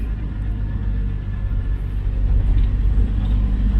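Multicab vehicles with mag wheels pass on a road in the Philippines, a loud, close, low engine rumble that swells slightly as they go by, with no talk.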